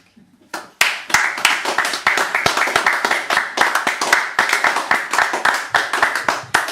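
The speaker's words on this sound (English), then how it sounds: "More applause, please, for Alison." Enthusiastic clapping from a small audience at a Christmas spoken-word and poetry event, starting abruptly after a quiet moment and continuing as close, distinct hand claps.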